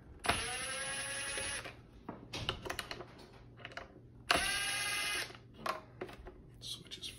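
Electric screwdriver backing out screws from a center console switch in a 2019 Honda Pilot, two sustained whirring runs separated by clicks and handling noises, heard close and fairly quiet.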